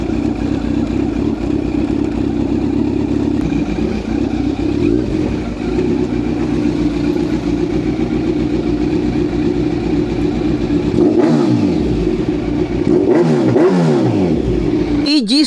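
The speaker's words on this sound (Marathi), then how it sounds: "इथपर्यंत आवाज येतो ह्या गाडीचा, इथपर्यंत" A fifteen-lakh car's engine revs loudly and close by, holding a steady, sustained roar with no clear gaps, and its pitch shifts in a few surges near the end.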